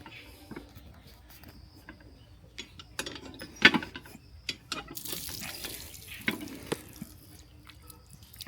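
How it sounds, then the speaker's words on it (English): Water trickles and splashes intermittently from a press-operated water tank tap in Kolkata, with sharp clicks and clunks of the mechanism between short bursts of flow. "water tanks, like you have to press them."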